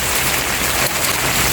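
Steady rain pours down outdoors while children bathe in it, a dense, continuous hiss of falling drops that stays loud and even throughout, with no voices heard.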